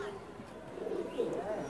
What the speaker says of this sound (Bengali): গাইস দাদা আরেকটি কবুতর দেখুন কি কবুতর রয়েছে